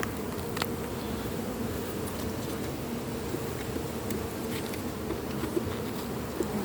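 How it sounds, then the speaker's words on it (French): A hornet buzzes around an open beehive over brood, a continuous droning hum of flying insects that stays steady and fairly close throughout, with no voices. "Là, j'ai un frelon qui tourne."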